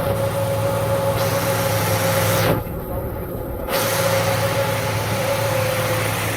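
Cooling fan on a 1997 Ford Mustang V6 whirring steadily beside the idling engine, loud and constant with a steady tone, briefly dipping in the middle before resuming.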